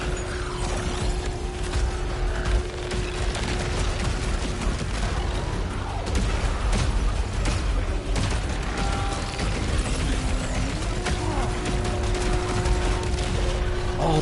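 Rapid-fire weapon shooting in the video game Saros, a dense, continuous stream of gunfire and mechanical clatter with steady tones, loud and unbroken for the whole stretch without talk.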